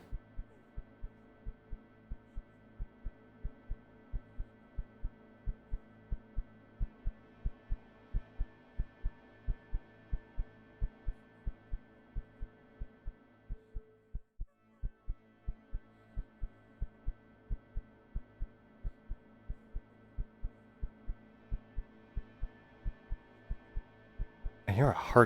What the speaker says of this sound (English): I hear a heartbeat thing.